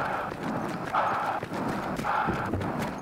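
Player movement sounds from the video game Battlefield 1, close and fairly loud, with rhythmic hoof-like clopping and rustling gear in a galloping pattern.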